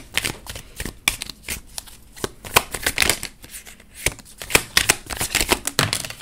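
Tarot cards being shuffled by hand in rapid bursts of crisp riffling and slapping, close and fairly loud, with short pauses between flurries and no talking.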